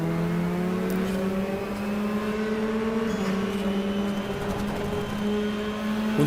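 A racing car engine in the GTR 2 sim drones steadily through a fast run at the Zolder circuit in Belgium, a close, continuous whine with gentle pitch shifts as revs rise and ease, with no talk over it.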